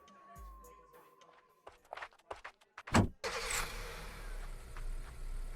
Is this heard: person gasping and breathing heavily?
no